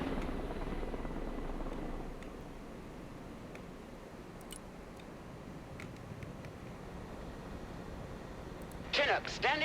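A Chinook helicopter in the Broken Arrow video game gives off a steady, heavy rotor rumble that fills the whole stretch, with faint voices underneath and a brief burst of clicks near the end.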